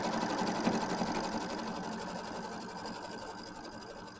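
Sewing machine running a tack down line on batting for an appliqué mini quilt, a close, continuous rapid stitching whir with no pauses and no voices.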